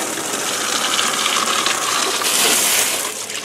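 A hose sprays water steadily onto a mud-coated ATV being washed, a continuous close hiss and splatter that swells slightly near the end before easing off.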